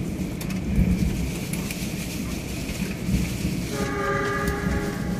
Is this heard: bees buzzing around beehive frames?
no